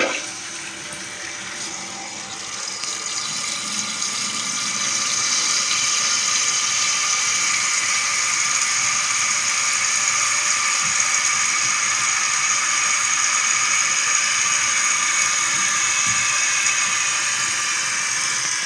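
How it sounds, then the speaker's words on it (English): A toilet tank refilling after a flapper valve replacement, a steady hissing rush of water that swells after a few seconds and holds constant, close and fairly loud. "So the tank is filling back up."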